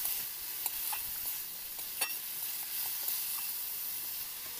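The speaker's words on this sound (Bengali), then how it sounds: "মশলা থেকে তেল ছেড়ে দিলে আলুগুলো দিয়ে 2 মিনিট নাড়াচাড়া করে নেব" Potatoes being stirred and fried in spice paste for a spicy village-style crab curry, a faint, steady sizzle with occasional soft scrapes of the spoon against the pan.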